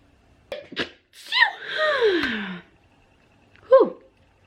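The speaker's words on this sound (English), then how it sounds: "I think I have to sneeze." A person gives a couple of sharp breathy gasps and a drawn-out wavering inhale, then lets out a single short sneeze, close and alone.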